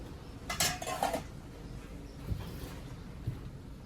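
A lid is set onto a pot of pork soup with cabbage, giving a couple of close metallic clanks and rattles, followed by quieter faint knocks.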